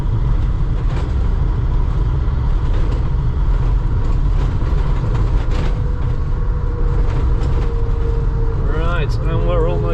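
An Iveco Variety Club bus drives along with a loud, steady engine drone and road rumble, then the engine pitch swoops as it changes gear near the end; a person talks over it.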